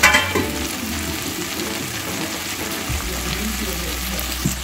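Ginger garlic paste frying in hot oil in a pan while being stirred for a raw jackfruit biryani, a steady close sizzle with occasional scraping strokes throughout.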